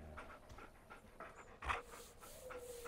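A wolf companion in Far Cry Primal pants in quick, breathy bursts close by, with one louder huff near the middle over a faint game ambience.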